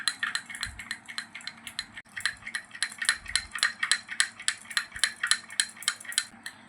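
A spoon mixes honey with another ingredient in a small bowl for a lip remedy, making quick, rhythmic, close clinks and taps that repeat steadily with a brief pause.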